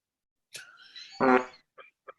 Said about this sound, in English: Do you want this fart noise?